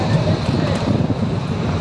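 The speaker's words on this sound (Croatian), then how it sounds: "Pomalo pirka nekakva vjetrica" A light breeze on Goljak mountain rumbles steadily and loudly across the microphone, a continuous low wind roar with no pauses.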